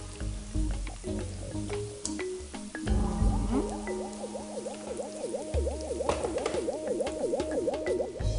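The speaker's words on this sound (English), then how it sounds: "I'm just going to make this up to the litre mark with some water from the kettle." Water from a kettle glugs and splashes into a jug, with rising gurgling tones as it fills, close and moderately loud, broken by a few clunks.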